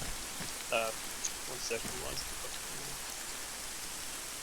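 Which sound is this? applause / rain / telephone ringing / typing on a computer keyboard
rain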